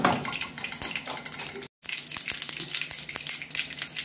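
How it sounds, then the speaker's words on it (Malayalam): Mustard seeds pop in hot vegetable oil in a pan while Kerala-style tuna thoran is being started. A steady close sizzle carries scattered sharp crackles, with a brief silent gap partway through. "കടുകിട്ട് പൊട്ടിക്കുന്നു."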